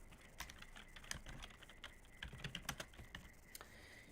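Quiet, steady clicking of keys on a computer keyboard, irregular taps with a few louder strokes, heard close and alone.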